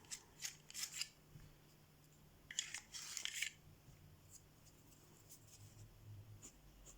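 Colored pencil strokes on paper shading dense grass: faint scratchy bursts of quick back-and-forth scribbling with pauses between, close and quiet, no speech.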